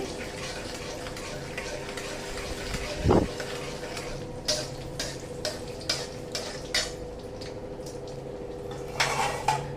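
Peanuts tossed and roasted in a metal pan for upma, a spoon scraping and clinking against the pan in a steady, close series of strokes over a low background hum, with no talking.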